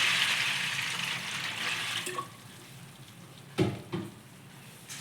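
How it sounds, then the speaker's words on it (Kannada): Water is poured over plain unsalted puffed rice to soak it. A loud rushing hiss lasts about two seconds, then fades, followed by a few soft knocks and splashes. No one speaks. "ಈ ಥರ ನೀರು ಹಾಕ್ಕೊಂಡು ಮಂಡಕ್ಕಿನ ಹೀಗೆ ನೆನೆಸ್ಕೋಬೇಕು."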